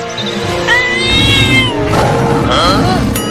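Cartoon cat fighting a lion, with yowling, caterwauling cries and growls over a busy, loud background; voices talk throughout.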